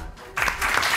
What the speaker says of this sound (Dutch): Een applaus voor Astrid.